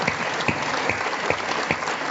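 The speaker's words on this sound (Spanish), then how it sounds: "Un aplauso" An audience claps steadily at a book launch, a dense, even round of applause with a few sharper claps standing out, continuous for the whole stretch.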